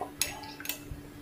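A spoon stirs basil seeds into a glass of water, giving two sharp, close clinks against the glass amid quiet swirling, with no talking.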